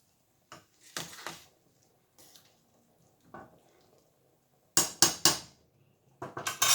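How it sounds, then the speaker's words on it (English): Dried pinto beans are stirred in a cooking pot in a few scattered bursts of scraping and rattling, close and sharp, separated by near silence. "And we're gonna stir it on in here, you guys."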